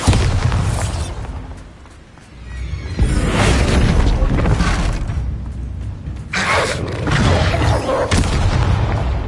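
Bombarda blasting spell in Hogwarts Legacy, a series of loud booming explosions with crackling, shattering debris, several bursts in succession, including a big blast near the middle and another late in the clip.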